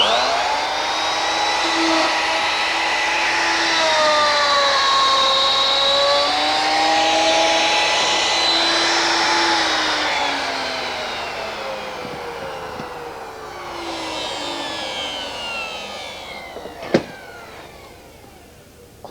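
Power tool mounted on a Triton work table cutting stop trenches into a wooden staircase stringer, a loud whining motor whose pitch rises and falls through the cut for about twelve seconds, then settles lower before a sharp knock near the end.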